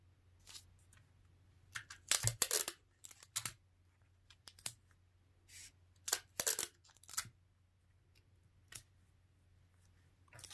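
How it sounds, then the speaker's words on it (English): Scissors cut a paper quilt template in a quiet room, with a series of short crisp snips and paper rustles that come in irregular bursts separated by brief pauses. "I'm just going to cut on the line one of my pieces and tape that together"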